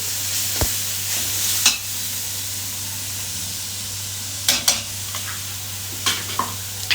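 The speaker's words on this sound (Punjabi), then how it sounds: "ਆਪਣਾ ਮਸਾਲਾ ਭੁੱਜ ਜੂਗਾ ਨਾ ਤੇਲ ਨਾਲ" Spice masala fries in hot oil in a pan with a steady, close sizzle, broken by a few scraping stirs and sharp spits; no one speaks.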